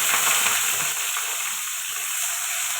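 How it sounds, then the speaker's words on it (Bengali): Onions frying in a kadai with cumin, dried chilli and bay leaf for a mutton-fat ghugni with peas and potato: a steady, close broadband sizzle that holds throughout, with no voices. "পেঁয়াজটা ভালো করে ভেজে নেব।"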